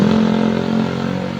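A motorcycle engine with a loud, aftermarket-sounding exhaust drones close by, a steady low rumble with a strong hum that holds for about a second and a half without any talk.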